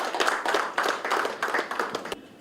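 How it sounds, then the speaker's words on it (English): Audience applause greets a panelist at a building acoustics panel discussion in Chennai, a steady wash of many hands clapping in a hall for a couple of seconds before it thins out. "please give a big round of applause and welcome him"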